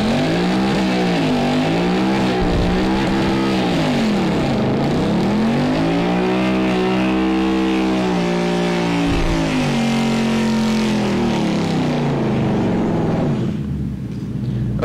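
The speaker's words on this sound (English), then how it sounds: "At the end, he kind of bogged down. He didn't pull out of the burnout." A car holds a long, loud burnout with strong harmonic engine revving that sags and dips in pitch twice midway as it bogs down, then fades at the end.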